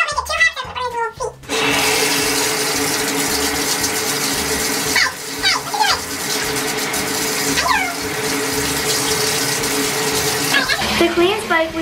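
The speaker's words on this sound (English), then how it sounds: "the first thing I'm going to do is start the water" Tap water gushes steadily into a tub to bathe a dog, a loud continuous rushing flow, with a voice and adult talk briefly heard over it.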